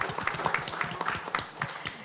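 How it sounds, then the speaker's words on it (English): Audience applause at a WalletCon panel in Cannes, a steady wash of many hands clapping that fills the room throughout, with a few voices mixed faintly underneath. "I just want to start this panel by giving a round of applause to the team for organizing such an incredible event here in Cannes"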